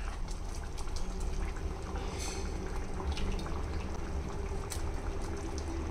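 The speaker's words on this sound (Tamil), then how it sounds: "இப்போ இது நல்லா வந்து கொதிக்கட்டும்." Green gram curry bubbles at a soft, steady simmer in a cooking pot, a faint continuous gurgle with occasional small pops and no talking.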